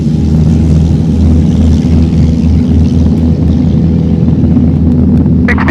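Piper PA28 Warrior light aircraft powering up for a touch-and-go takeoff, a loud, steady droning engine hum from inside the cabin with buffeting wind noise, no speech.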